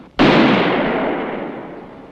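A single sharp pistol shot at shooting practice, a handgun heavier than the usual .22, cracking loud and close, then a long reverberant tail that fades slowly over two seconds with no talk over it.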